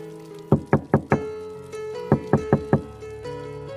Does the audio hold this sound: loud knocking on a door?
yes